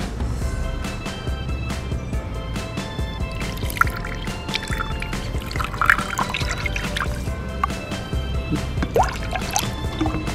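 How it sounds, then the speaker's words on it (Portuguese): Water trickles and drips into a Gelli Baff slime mix, a steady wet pouring with small splashes and squishy liquid sounds, fairly close and continuous with no talking. "Agora vamos colocar a água."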